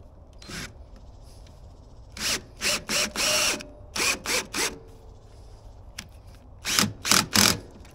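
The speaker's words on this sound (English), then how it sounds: "now I'm going to go ahead and put the bolt in" A power tool drives a bolt into a sugarcane press stand in short bursts of whirring, several quick pulses close together, then a final cluster of louder runs, close and clear.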